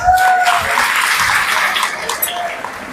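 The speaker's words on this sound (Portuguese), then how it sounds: "Vamos receber a doutora Alexandra com aplausos?" An audience at a live longevity expo talk applauds steadily to welcome a doctor, a continuous wash of clapping close and even throughout.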